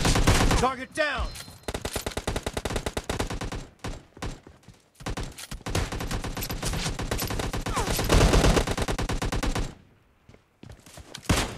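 Gunfire in the mobile shooter PUBG Mobile Lite: dense, rapid automatic bursts almost throughout, loud and busy, broken by a few short pauses and a near-silent gap near the end.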